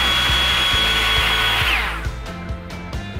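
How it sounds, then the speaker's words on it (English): A Greenworks 60V battery leaf blower whooshes loudly at full power to blow grass seed across a floor, then winds down and cuts off, leaving soft scattered clicks and taps. "the best way to show the power of this blower is to actually grab a bag of grass seed and put it on the floor and take the blower"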